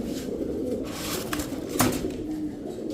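Kashmiri racer pigeons cooing, soft low throaty coos repeating close by over a quiet background, with a few brief sharper sounds and no talking.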